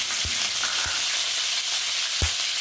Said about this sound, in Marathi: पनीर मस्त आपण तळून घेणार आहे